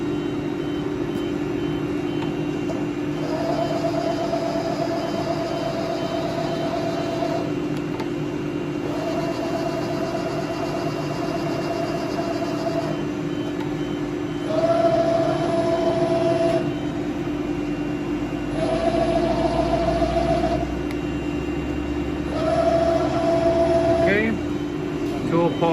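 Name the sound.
Romi M27 CNC lathe running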